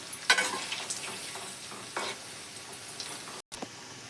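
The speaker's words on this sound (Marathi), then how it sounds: "चार पाच मिनटं आपण पूर्ण त्याला तसं असं तळून द्यायचे" Cabbage bhaji fritters deep-frying in oil, a bubbling sizzle broken by several stirring clinks and scrapes, with a brief gap of silence near the end.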